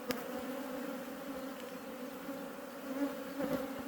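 Honeybees swarm and hum steadily in an opened beehive, a close, continuous droning buzz that swells slightly toward the end.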